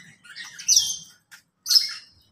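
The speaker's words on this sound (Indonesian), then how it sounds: "Video kali ini saya berada di aviari bermacam jenis burungnya" Various birds in an aviary give bright, high chirps and short tweets in two close bursts with brief gaps between, fairly loud and with no talk.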